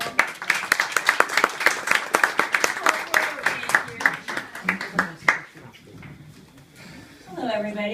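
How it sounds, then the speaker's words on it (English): Wedding reception guests give a warm round of applause and clapping for a speaker, loud dense clapping that fades out around the sixth second, followed by quieter room noise and the start of a voice. "Let's have another warm round of applause for Faith, everyone."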